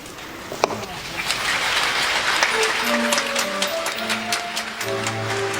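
A congregation at a Holy Family Mass applauds with steady, moderately loud clapping that fills the space, while sustained organ-like tones rise beneath it toward the end.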